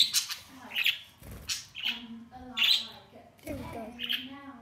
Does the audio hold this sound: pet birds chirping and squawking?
yes